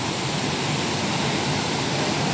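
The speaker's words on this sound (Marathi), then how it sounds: "आणि एक नंबर धबधबा आहे" A forest waterfall roars in a steady, loud, broadband wash of falling water, unbroken and constant throughout with no voices.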